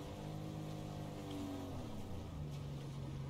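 A car engine in a video game drones steadily with a rising and falling tonal whine, holding at moderate, even loudness throughout as the vehicle approaches.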